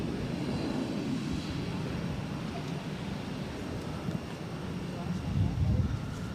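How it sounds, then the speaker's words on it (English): A Delta Airlines Boeing 737-800 taking off from Boston Airport for New Orleans, heard as a fairly faint, distant rumbling jet roar that holds steady throughout. "This is Delta Airlines 1398 taking off to New Orleans on a"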